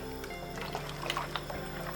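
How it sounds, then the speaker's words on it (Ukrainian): Soft, steady bubbling and popping of a pickling marinade with vinegar and sugar simmering close by, with small irregular bursts over a continuous low churn. "Зараз ще хай покипить."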